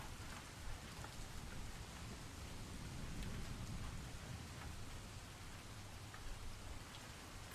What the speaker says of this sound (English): You do hear rain. I have like a rain thing running.